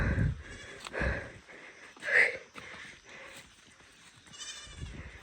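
Sheep in a hillside livestock herd give a few bleats near and far over a soft background of shuffling, with a louder call in the middle and quieter ones after.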